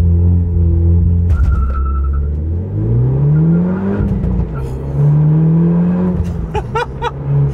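A Renault Megane RS Trophy-R hot hatch launches under launch control. The loud engine note climbs steadily through the gears, with a brief dip at a shift and whistling turbo and tyre noise on top, heard from inside the car.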